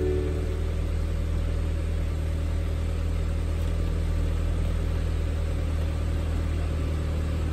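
A 2017 BMW 530i idles with a steady, low, even hum that holds at a constant level throughout, heard close and alone with no voices.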